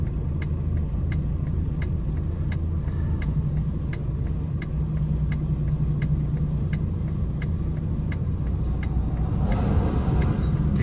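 A heavy truck rumbles past at close range, its deep engine drone steady throughout, with a regular ticking, likely an indicator, clicking along and a hiss of air or brakes near the end. No one speaks.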